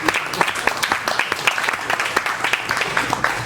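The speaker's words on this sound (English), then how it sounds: "give yourselves a round of applause" Wedding reception guests applaud together, a dense crowd of hand claps holding steady and fairly close throughout.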